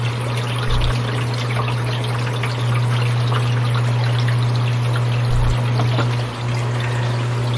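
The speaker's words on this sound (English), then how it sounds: "Now I'll pour the solution into the water trough." Cleaning solution pours steadily into the water trough of a Manitowoc NEO undercounter ice machine, a continuous trickling splash over a low constant hum from the machine.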